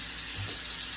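Running tap water rinsing soap off small Hot Wheels die-cast toy cars, a steady close splashing flow without a break.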